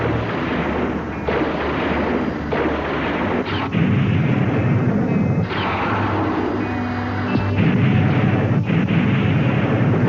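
An artillery battery firing in a film scene, with heavy continuous booming blasts and rumbling explosions layered densely and loudly throughout, with no talk.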